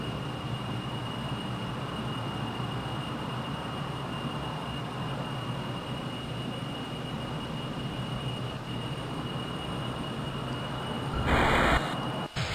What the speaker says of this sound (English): We're going to kill our forward thrust engine, let it die down.